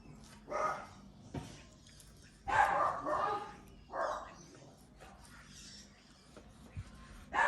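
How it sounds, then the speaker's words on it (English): Dogs bark in several sharp bursts at mid-distance while meat is cubed for burnt ends, with short quiet gaps between the barks and no talk. "Sorry about the dogs."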